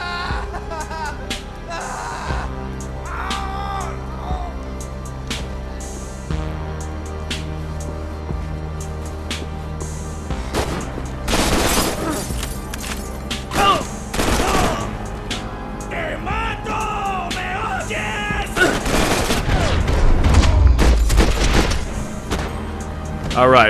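Gunfire in the shooter Max Payne 3 during a firefight against guerrilla-style soldiers: scattered shots and impacts layered over a continuous game soundtrack, with a heavier burst of shooting near the end.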